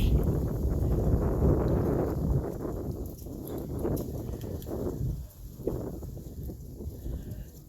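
Strong wind blowing outdoors at the front of a house on a freezing day, a heavy low rumbling roar buffeting the microphone, loudest at first and then gusting unevenly.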